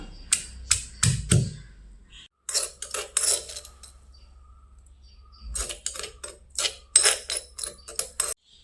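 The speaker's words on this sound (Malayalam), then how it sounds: "ഇത് കുറച്ച് കുരുമുളക് ചതച്ചെടുക്കാം. രണ്ട് പച്ചമുളക് കൂടി ചതച്ചെടുക്കാം." Black peppercorns and green chillies are crushed with quick, sharp knocking strikes that come in clustered bursts separated by brief pauses, close and crisp with no talking.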